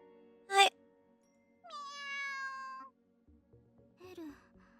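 A cat gives a drawn-out, rising-then-falling meow, preceded by a short sharp burst and followed by a softer brief vocalization, close and clear against near silence.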